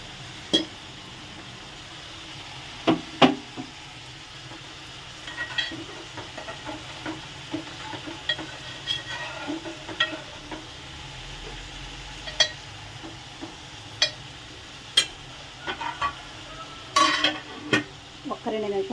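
A curry thickened with poppy seed paste simmers quietly in a pan while a spoon stirs and scrapes it now and then, with soft bubbling and sizzling between sharp, irregular clinks and scrapes.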